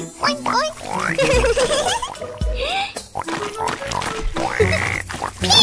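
A sung children's nursery tune where a voice imitates a pig, repeating bright, bouncy oinks and grunty syllables in rhythm over a lively musical backing.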